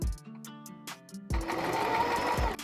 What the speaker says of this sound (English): Now we're going to hop on the sewing machine and all we're going to do is just make a straight line along right here